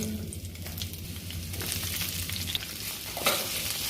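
Chicken deep-frying and stir-frying with onion, chili and sauce, a continuous bubbling sizzle with a low rumbling undertone and an occasional clatter near the end, close and steady, no talk.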